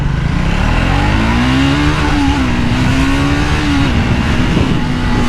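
Triumph Speed 400 motorcycle being ridden, a loud close engine note rising and falling as it revs, with steady wind rush over a continuous run.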